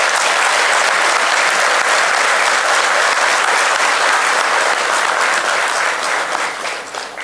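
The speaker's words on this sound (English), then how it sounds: "Can we please have a big round of applause for sir?" Loud, sustained applause from a large audience at a youth dialogue event with India's Minister of Youth Affairs and Sports, steady dense clapping that tapers slightly near the end.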